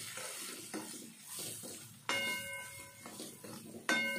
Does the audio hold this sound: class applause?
no